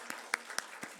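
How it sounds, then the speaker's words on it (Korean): A church congregation claps together in a brief burst, with a few sharp rhythmic hand claps in quick succession, close and moderately loud. "박수 한번"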